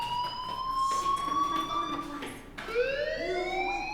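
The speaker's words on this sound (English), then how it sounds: "do you hear that fire alarm? That means you should be outside." A fire alarm rings in the video game Life is Strange, a loud steady electronic wail with sustained rising tones that cut off briefly and then resume, with no talking.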